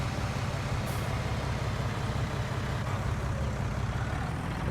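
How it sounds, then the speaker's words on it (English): A tractor engine in the Farming Simulator 19 game drones steadily and faintly, with an even low rumble and no changes in pitch throughout. "that should stop that tractor right there"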